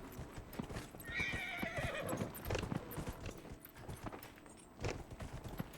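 Hooves clip-clop steadily at a walking pace in the video game Dragon Age: Inquisition, with a horse whinnying partway through over a busy background.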